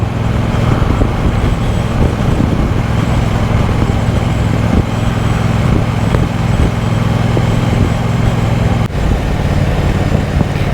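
A 2023 Triumph Bonneville Bobber 1200 motorcycle cruises on an open road, producing a steady, loud engine drone mixed with wind and road rumble that holds constant throughout, with one brief dip near the end.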